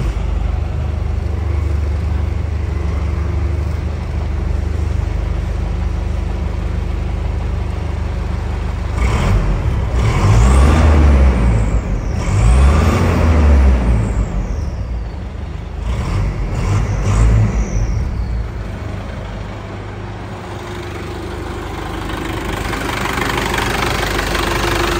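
A 1996 Chevrolet D20 Custom pickup with a Maxion engine runs loud and steady, rumbling at idle with a few revs that swell and fall before settling back.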